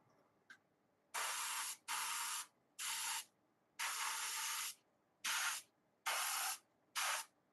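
An airbrush sprays metallic silver paint in seven short, sharp hissing bursts separated by brief pauses, close and clear with no talking.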